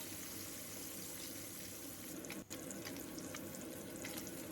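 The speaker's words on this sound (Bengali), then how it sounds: "কড়াইতে দিয়ে দিলাম সর্ষের তেল। তেলটা খুব ভালো মতো গরম হয়ে গেছে। এবার মাছটা হালকা ভেজে নেব।" Parshe fish fry lightly in hot mustard oil in a wok, a constant faint sizzling hiss with one brief dip midway and a few small crackles, no talk.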